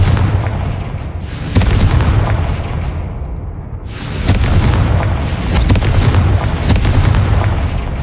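Confringo fire-blast spell booming in the video game Hogwarts Legacy, two loud, heavy explosive blasts with rumbling, crackling tails, the second following about three seconds after the first.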